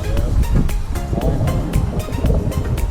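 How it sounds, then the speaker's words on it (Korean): Sea waves wash and break in a steady roar on the coast at Yeosu, South Korea, with wind buffeting the microphone and rhythmic thuds of water. "파도가 있다. 지금 치고 있어요."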